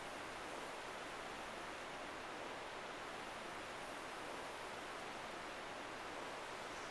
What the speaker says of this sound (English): I think it's just waterfall sounds and stuff